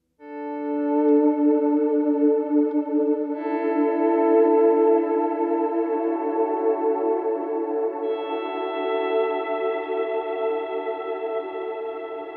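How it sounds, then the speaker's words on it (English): Electric guitar swell run through a reverse delay and a cloud-style reverb, notes fading in smoothly and sustaining as long shimmering tones that blend and ring out alone, with no talk. "if I want to get to a swell preset, which I use like a reverse delay and a cloud reverb for that"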